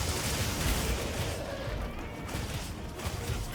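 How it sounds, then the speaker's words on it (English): Explosive attack sounds in the Monster Hunter video game: dense crackling blasts and impacts run continuously, loud and busy, with whooshing strikes layered in and a heavier burst near the end. "That ended with an explosion on his head at the end."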